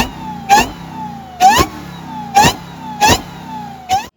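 The supercharged 6.2-litre V8 of a Dodge Challenger SRT Hellcat Redeye, with a 2.7-litre supercharger, revs in five sharp bursts, each a loud rising blip with a whine, separated by short idling pauses.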